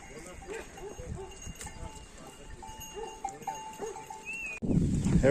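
Livestock herd driven down from highland summer pasture toward a village, cowbells clinking in scattered bright tones over soft hoof shuffling, with a herder's voice nearby. A louder rustling burst comes near the end.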